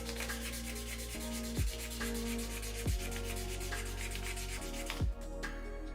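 A hand works 400 grit sandpaper back and forth over lacquer on a guitar on a workbench, producing a soft, continuous close-up rubbing hiss with a few strokes standing out, over a low steady hum and without talking.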